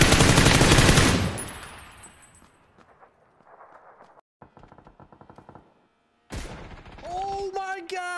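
PUBG gunfire: a loud rapid automatic burst that trails off into scattered echoing shots, a short silence, then more shots mixed with game sounds and a voice.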